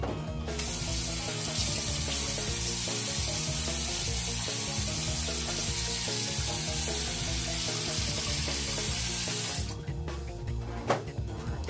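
Water runs from a tap onto a charcoal toothpaste tablet in a steady, loud hiss for about ten seconds, then stops, leaving faint handling noises.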